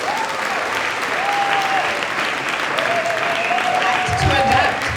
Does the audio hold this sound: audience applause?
yes